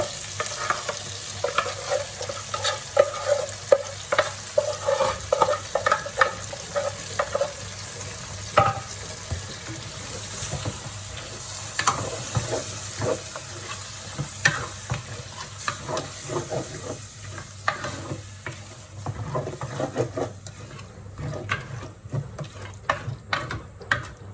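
Mung beans tipped into a pan with pork sizzle steadily while a utensil scrapes and stirs in irregular bursts, close and continuous for the whole stretch.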